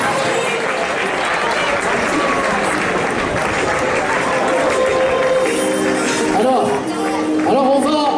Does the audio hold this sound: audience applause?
yes